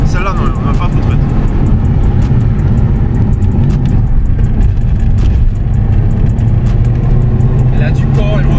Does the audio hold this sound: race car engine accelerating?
yes